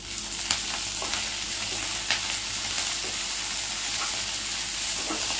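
Ginger chutney ingredients with curry leaves and coriander sautéing in a hot pan, a constant close sizzle and frying hiss with occasional stirring scrapes, no talk.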